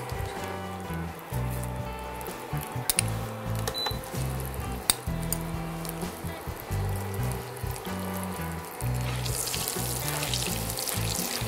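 Black cumin seeds sputtering in hot oil in a home kitchen while preparing fish with green tomato, a steady close crackling sizzle with scattered pops that runs throughout.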